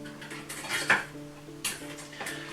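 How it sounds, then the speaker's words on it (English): A spoon scrapes and clinks against a pot while sweet and sour sauce is stirred, a few sharp metallic knocks standing out over a quiet kitchen background. "let's give that a good old stir up"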